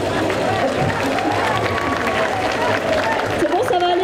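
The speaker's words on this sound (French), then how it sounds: "Donc vous pouvez les applaudir encore" Crowd applause and cheering for a cosplay stage performance at a geek festival, a steady dense wash of clapping and hubbub with voices mixed in throughout.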